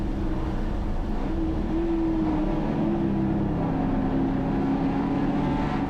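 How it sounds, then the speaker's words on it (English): A race car at full throttle down Conrod Straight at Mount Panorama during the Bathurst 6 Hour, a steady loud engine drone held continuously with a slight pitch shift. "Full noise towards the kink on Conrod Straight, into the chase."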